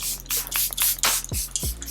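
Several quick hissing spritzes from a Charlotte Tilbury makeup setting spray bottle, close up, followed by a couple of soft knocks.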